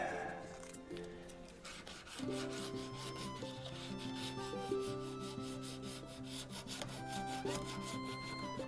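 Hand sanding on a 1966 Mustang body with 80-grit sandpaper, a close, rhythmic scratchy rubbing in quick repeated strokes, with a faint tonal hum underneath and no talk.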